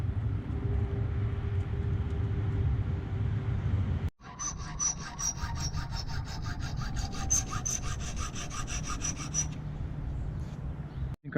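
Metal on a Ford tractor's 3-point hitch being cut, a continuous close grinding rasp that shifts partway through into a higher, brighter repetitive cutting tone before cutting off abruptly.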